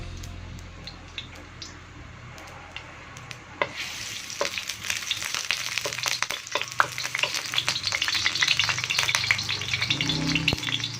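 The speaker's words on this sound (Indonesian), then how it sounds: "Minyaknya sudah panas, langsung saja kita masukkan bawang merahnya 1 siung yang sudah dipotong-potong" One chopped shallot dropped into 10 ml of hot oil, starting quiet and then bursting into loud, continuous sizzling and crackling with dense popping spatters that persist steadily for several seconds.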